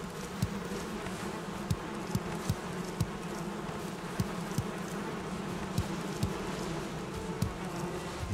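Bees hum steadily around beehives in the video game Valheim, a continuous close buzzing drone with faint regular ticks throughout and no voices.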